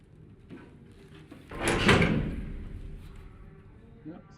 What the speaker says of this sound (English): Yep, secret door.